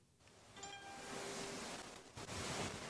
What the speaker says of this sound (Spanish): El viento en la isla.